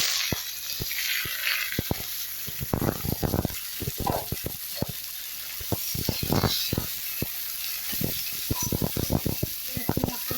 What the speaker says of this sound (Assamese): পিঁয়াজখিনি অকণমান ভাজি অকণমান কমি যোৱালৈকে 5 মিনিটমান অকণমান ভজা হ'ল